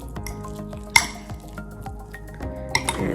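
Guacamole being mixed in a bowl, with a spoon clinking and scraping against the sides, wet squelching stirs and two sharper knocks, close and alone.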